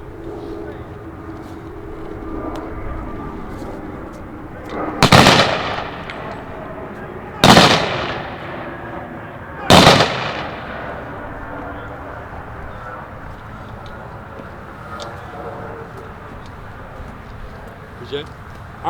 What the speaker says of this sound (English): The M1s are quite loud and quite close, so please do not be startled by the gunfire.